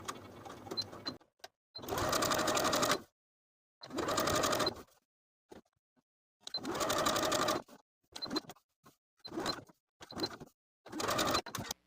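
A home sewing machine stitches the fly of elastic-waist shorts in bursts: several long runs of about a second each, then shorter quick spurts, with silent pauses between them.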